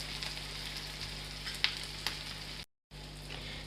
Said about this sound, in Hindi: शामी कबाब फ्राई हो चुके हैं